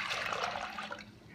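Water pours steadily into a crockpot for pinto beans, a soft, close splashing gush that fades slightly toward the end.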